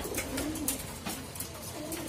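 Soft cooing from racing pigeons repeats through the clip, close by, over a steady murmur of background noise.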